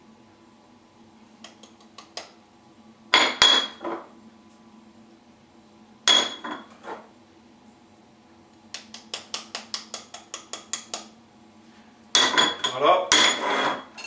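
A utensil clatters and scrapes against a salad bowl while breadcrumb coating ingredients are mixed, sharp clinking bursts and a run of rapid rhythmic taps, close and loud, with a brief spoken word.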